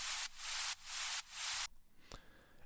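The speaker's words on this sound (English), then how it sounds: "Then we have this continuous white noise." White noise from a tech house drop made in Ableton, three loud bright hissing bursts that swell and cut off, followed by a quieter tail with one short hit.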